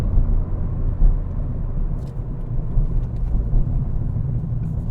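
Ford Fiesta ST mk7 engine growling steadily from inside the cabin, a loud, continuous low rumble with slight swells, no talking.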